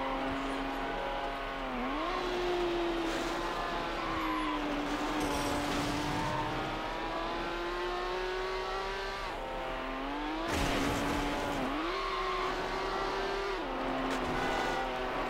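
Race car engine in Need for Speed: Hot Pursuit 2 on PS2, a steady high whine rising and dipping with gear changes and brief tire squeals, loud and alone without talk.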